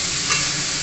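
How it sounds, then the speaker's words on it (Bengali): Cumin seeds frying in hot oil in a wok, heard as a continuous close, loud sizzle with a brief stirring scrape partway through, with no talking. "কড়াইয়ে তেল দিয়ে দিচ্ছি আগে, তার মধ্যে জিরা ফোড়ন"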